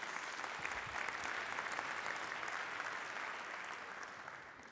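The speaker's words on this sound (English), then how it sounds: "Then I want you to give him a round of applause." Steady applause from a lecture audience during a talk by Lord Christopher Monckton in St. Paul. The dense clapping is heard at a distance and holds at an even level throughout, thinning slightly toward the end, with no voices over it.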